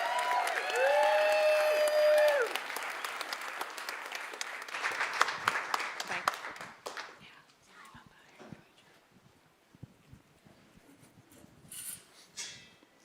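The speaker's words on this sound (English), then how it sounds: "Please give him a big round of applause." Audience applause at a Sundance Film Festival event swells loudly for a few seconds, then thins into scattered claps and murmuring voices before fading.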